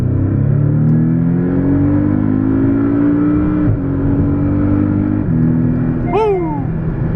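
A Porsche 718 Cayman S accelerating hard, its engine note climbing steadily and loud from inside the car, with a brief gear-change dip before the revs rise again.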